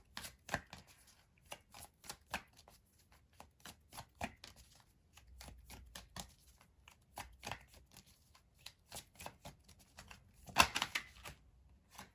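Tarot-style cards shuffled by hand for a card reading, a long run of rapid riffling and slapping bursts, close and fairly quiet, with a louder flurry near the end.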